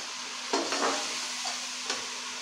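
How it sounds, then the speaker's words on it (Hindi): Tomatoes and masala frying in a pot, a soft steady sizzle broken by a few short scraping stirs of a spoon against the pot. "इनकी हम अच्छे से भुनाई कर लेंगे टमाटर जो है"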